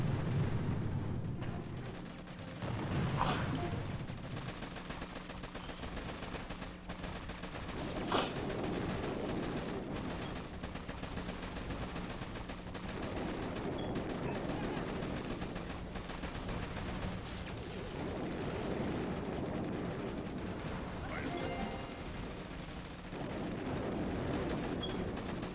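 Boom Beach battle with mortar and gunfire: faint, continuous rumbling combat din with occasional distant booms and shots, low in level and fairly even throughout.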